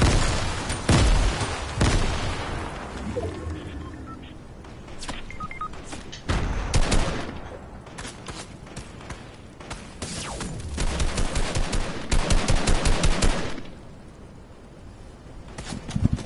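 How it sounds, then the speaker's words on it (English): Fortnite gunfire: repeated bursts of rapid shots, sharp cracks and volleys clustering in several loud spells with quieter gaps between, heard up close amid game effects. "They're shooting the sniper."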